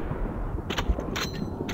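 Several sharp, bright bursts of gunfire in Call of Duty: Vanguard on PS5 crack in quick succession over a steady low rumble, loud and close.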